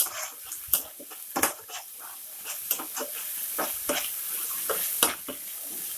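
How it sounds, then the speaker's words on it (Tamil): Onions and ginger garlic paste sauté in a pan for a chicken soup, a steady sizzle broken by frequent clicks and scrapes as the mixture is stirred. "ஸோ வெங்காயம் வதங்கிட்டு இருக்கு."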